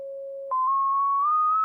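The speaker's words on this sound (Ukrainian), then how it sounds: "З такою частотою звучить камартон" A tuning fork rings as a pure, steady tone, sustained and clear, stepping up slightly in pitch partway through and holding alone without other sound.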